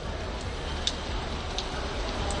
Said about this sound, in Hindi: 2 दिन से लगातार बारिश हो रही है